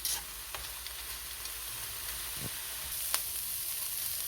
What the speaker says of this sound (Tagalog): Prito-prituhin muna natin ng konti.